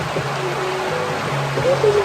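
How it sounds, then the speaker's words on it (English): Water rushes and gurgles steadily as a small stream flows through an opened small dam built by children, close by, with a faint voice briefly heard underneath. "They opened up the dam, look, made by the children, causing a flood"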